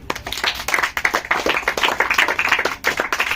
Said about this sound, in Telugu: కాబట్టి అందరూ ఒకసారి క్లాప్స్ కొట్టండి